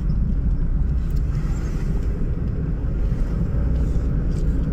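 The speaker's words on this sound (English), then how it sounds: "As you can tell, we're driving today." Inside a moving car, a constant low road rumble and engine drone run evenly throughout, with a faint airy hiss on top and no distinct events.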